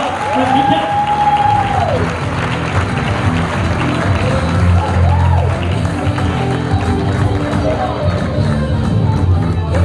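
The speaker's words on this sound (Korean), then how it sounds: "다시 한번 큰 박수 부탁드리겠습니다." A big round of applause at a women's handball awards ceremony in Busan: loud, sustained clapping mixed with crowd noise and some cheering, with a voice and faint tonal sounds over it.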